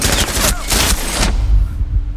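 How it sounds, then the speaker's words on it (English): Gunfire in the tactical shooter Rainbow Six Siege, dense bursts of rapid shots in two or three loud rushes, close and harsh, dropping away to a quieter tail at the end. "Bullets fly all over me."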